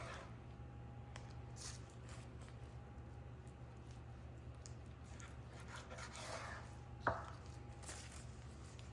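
A knife trims fat off raw pork for pinchos, making quiet, close slicing and squishing sounds over a low steady hum, with one sharp tap of the blade on the board near the end.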